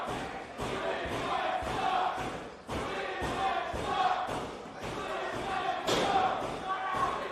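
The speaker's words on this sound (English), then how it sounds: "Banging on the boards over there on sound is the Dream Team this week." At a Pittsburgh wrestling show, rhythmic loud thumps of fans banging on the boards repeat at a steady pace roughly twice a second, under a cheering crowd and commentary.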